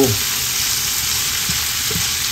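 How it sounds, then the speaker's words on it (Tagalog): Pork ears sautéing in a hot pan give a steady, loud, close frying sizzle with faint stirring knocks, no voices. "Gigisa ko po itong mabuti."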